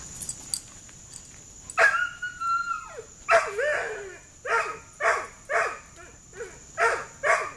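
A German Shepherd barks and yips in a run of sharp, fairly close barks, with a whimpering, drawn-out whine early on, over a faint steady background tone.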